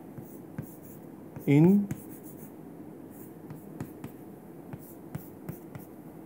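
Chalk or a marker scratches across a board during a chemistry lecture on symmetry and group theory, soft repeated strokes under a man's steady speech in a room with a faint background hum.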